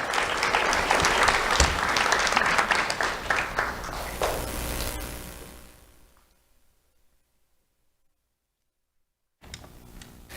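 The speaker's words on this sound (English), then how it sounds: "Let's have a round of applause for AED PuigRees." Loud audience applause greets an award winner at a Do The Right Thing awards ceremony, a dense clapping crowd that gradually fades to silence, followed by a short burst of renewed sound at the end.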